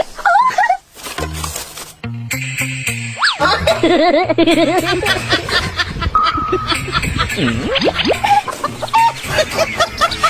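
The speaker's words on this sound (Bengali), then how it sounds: "চম্পা চম্পা, আমার মুরগি তো অনেক বড় হয়ে গেছে।" In an animated story made with mini wooden toys, a cartoon chicken clucks in loud bursts among bouncy boing effects, snickering chuckles and playful music.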